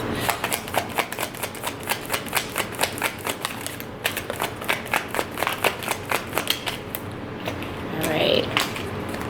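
Tarot cards shuffled by hand, a steady run of crisp riffling snaps in quick rhythm, close and clear, with a brief soft rustle near the end.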